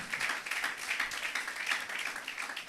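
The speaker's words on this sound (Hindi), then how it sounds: "स्टीफन भाई के लिए तालियां बजाएं।" Dense, continuous clapping from a church congregation during a sermon fills the room, steady and moderately loud with no voices on top.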